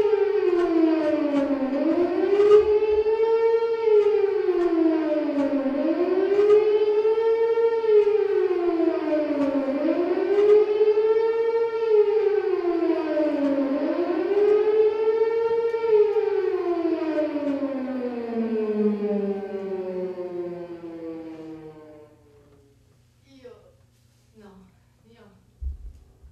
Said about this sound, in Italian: mentre le sirene gemono sopra il cielo di Belgrado durante i bombardamenti NATO